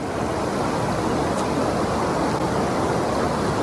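Water rushes steadily through a breached pond dam with a dense, constant roar, close and loud, with no pauses or other sounds.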